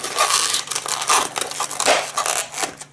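A latex balloon being twisted into a geo donut balloon tiger, with close squeaky rubbing, crinkling and stretching as the rubber is wrung, continuous and fairly loud.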